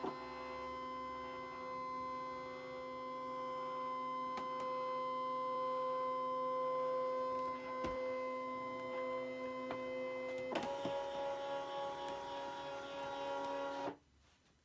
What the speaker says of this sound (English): now I'm going to scan again, direct cut, black and white, scan it in